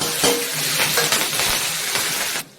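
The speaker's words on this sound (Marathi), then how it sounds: "कांदा चांगला भाजून घेते त्यानंतर मिरची टाकते" Onion and chili sizzle steadily in a hot pan, with a spoon stirring and scraping throughout at close range, loud and unbroken until the frying cuts off abruptly near the end.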